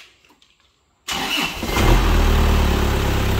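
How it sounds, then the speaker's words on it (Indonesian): A used car's engine cranks and catches after a second of near silence, then settles into a steady, loud idle close by, with no talk over it. "Ini mesinnya udah dinyalakan teman-teman."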